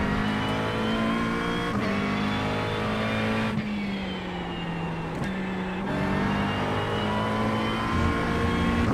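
A Ford Mustang GT3 race car engine drones loudly and continuously at Monza in the iRacing simulator, with pitch shifting as it upshifts and downshifts through the gears, heard alone with no talk.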